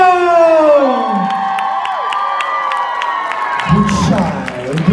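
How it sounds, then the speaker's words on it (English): Crowd cheering and whooping at a New Year's drag show crowning an Empress, loud and close, with high sustained shouts and whistles over scattered clapping, then rougher crowd noise near the end. "ladies and gentlemen, round of applause"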